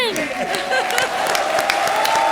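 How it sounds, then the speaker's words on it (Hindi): A studio audience at a televised comedy show breaks into loud, sustained applause, with sharp individual claps over a dense crowd wash and faint voices underneath. "जोरदार तालियां इनके लिए."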